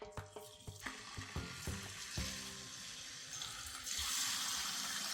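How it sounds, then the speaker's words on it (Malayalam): Chicken for fried chicken biryani is shallow fried in a pan over a medium flame, starting with crackling pops and clatter as pieces go in, then settling into a steady sizzle that grows louder toward the end. "ഇനി ഇതിലേക്ക് ചിക്കൻ ഇട്ട് ഫ്രൈ ചെയ്തെടുക്കാം."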